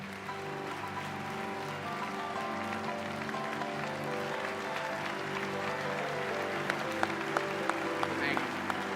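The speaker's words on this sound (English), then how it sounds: "how about a round of applause and a standing ovation" Audience applause for an honoree at a county awards ceremony, a steady wash of clapping that runs the whole stretch at moderate level, with a few sharper claps near the end and a hum of crowd and voices beneath it.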